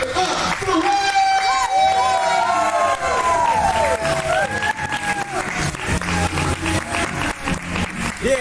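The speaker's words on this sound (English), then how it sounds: "Clap it up for Ray!" Poetry slam crowd claps and cheers loudly for the winner, with whoops and shouts riding over dense, close applause throughout.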